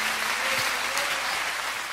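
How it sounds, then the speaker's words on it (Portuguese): Church congregation applauding, a dense, sustained wash of many hands clapping in a large hall. "os que podem dar a Jesus uma linda salva de palmas, porque ele é bom"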